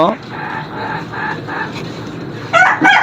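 At a shop selling chickens, roosters and hens cluck in short repeated bursts, and a loud louder squawk or crow comes near the end. Someone talks over the birds throughout.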